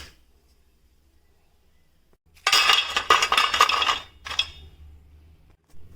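Fried snacks of boiled potato and wheat flour, mathri style, being set onto a plate, a quick cluster of close clinks and clatters on crockery after a quiet pause, then one more brief knock.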